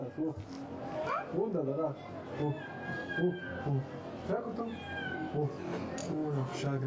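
A cat meows several times with rising, wavering cries, close and fairly loud, overlapping someone talking in French throughout.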